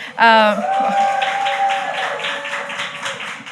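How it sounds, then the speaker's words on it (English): Live podcast audience clapping for a guest, a short burst of scattered applause heard beneath a voice with a sustained tone, trailing off into light taps. "I need to get used to the claps."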